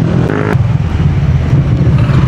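A small group of motor scooters, a Honda PCX, a Yamaha NMAX and an Aerox, riding together, their engines droning close and steady with wind rumble and a brief rise early on.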